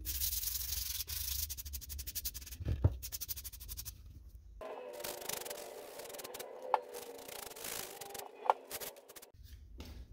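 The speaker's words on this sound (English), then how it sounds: "So the sanding kind of knocks down imperfections" Hand sanding on a refinished wooden SKS rifle stock gives a close, quiet, steady scratchy rubbing that changes texture midway, with a few sharp ticks and no voices.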